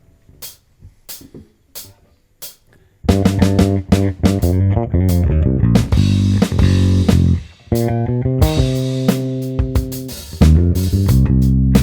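Sparse bass guitar notes open quietly, then a full band kicks in with a chunky funk bass riff at a slow, steady tempo of 90.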